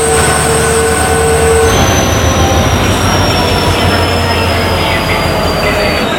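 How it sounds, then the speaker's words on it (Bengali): The Jagannath Express passenger train rolls into a platform loudly with steady rumbling wheels and a long high-pitched screech of brakes or wheels squealing against the rails, close by. "তো ওই ট্রেনটা ছেড়ে বেরিয়ে গেছে, আর এখন ঢুকছে জগন্নাথ এক্সপ্রেস"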